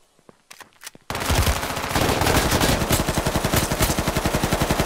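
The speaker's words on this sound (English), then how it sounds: "That was a shootout if I ever fucking had one." Gunfire from a shootout in the battle royale game H1Z1: a few sharp early shots, then loud, sustained automatic fire with rapid, evenly spaced bursts that hammer on to the end, with no talking.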